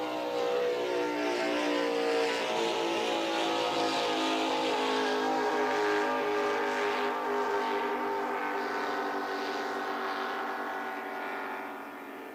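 Offshore superboats roar past at race speed along the front straight, a loud, continuous high-pitched engine drone with dense harmonics that holds steady before fading slightly at the end.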